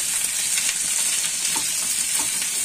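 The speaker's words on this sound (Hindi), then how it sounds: "ये तेज पत्ता, छोटी इलायची, लौंग, ये दालचीनी, जीरा और ये काजू, इनको अच्छे से हमने फ्राई करना है" Whole spices such as bay leaf, green cardamom, cloves, cinnamon and cumin fry with cashews in hot oil in a pan, giving a steady, close, continuous sizzle with faint crackles and a few light stirring clicks, no voices.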